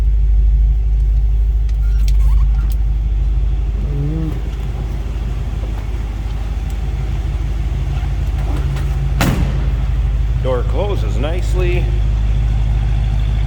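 A 1955 Ford Fairlane Victoria with a 302 V8 idles with a steady, deep low rumble close by, while someone talks over it intermittently.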